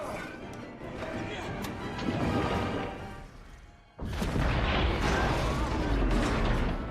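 Gunshots smash a large boulder in an action scene from the film Journey 2: a dense, loud mix of blasts and crashing debris, with a sharp burst of impact noise about midway. Voices mingle with the din.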